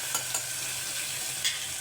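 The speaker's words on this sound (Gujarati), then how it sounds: "તો જો આ ગુવારના શાકનો વઘાર થઈ ગયો છે." Tempering of onion, garlic and tomato for a cluster bean curry sizzles in a pan with a steady, bright hiss, and a few faint clicks of stirring sit on top of the frying.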